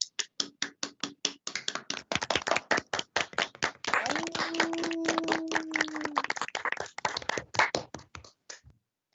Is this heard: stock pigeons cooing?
no